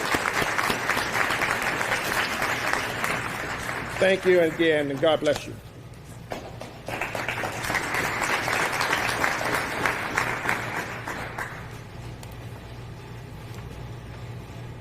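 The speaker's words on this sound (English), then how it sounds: "Let's give our firefighters and our EMS work another round of applause" An audience at a fire station grand opening applauds firefighters and EMS workers, sustained clapping broken briefly by a spoken thank-you and blessing, then resuming before fading.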